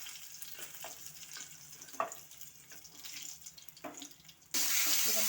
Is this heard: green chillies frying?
yes